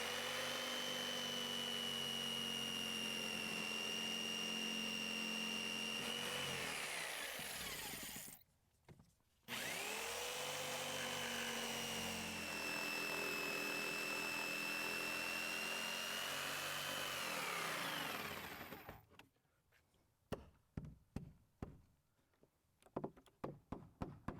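A power drill fitted with a wood bit cuts a mail slot opening through a door, a loud sustained whine that drops and recovers under load, pauses briefly, runs again, then gives way to a series of sharp knocks and clatters.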